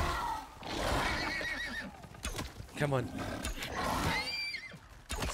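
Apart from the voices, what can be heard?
horse neighing in the video game Icarus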